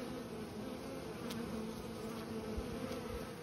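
Bees returning to their hive make a faint, continuous buzzing hum, with a few individual bees droning past close by.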